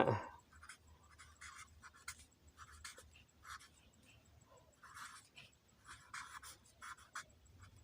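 A pen scratches on paper, writing out lottery-style numbers in short, irregular strokes close to the microphone, with quiet gaps and faint room noise between them.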